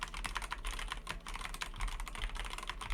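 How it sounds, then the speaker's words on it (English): Rapid, steady typing on a computer keyboard placed in front of a FIFINE Ampligame A8 microphone, close and fairly loud, with dense clicking keystrokes and no voices. "Keyboard in front of the microphone."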